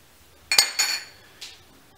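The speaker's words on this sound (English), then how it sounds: "So we're just going to spread our sugar on top of our pudding" A utensil clinks and scrapes as sugar is spread over crème brûlée custard: two bright clinks in quick succession, then a softer tap a moment later, close and with no talking.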